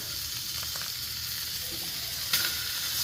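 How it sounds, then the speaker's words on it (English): Hatch green chile cheddar sausages sizzle on a Blackstone griddle in a steady, loud hiss, close by, with a brief scrape or clatter near the end and no talking. "Gonna flip them over and let them char up on this side."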